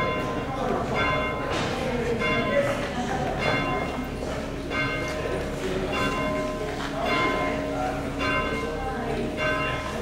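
The Angelus bell at All Saints church on North Street, York, rung but not swung full circle: repeated clear metallic strikes at a steady pace, each ringing on and overlapping the next, with some talking underneath.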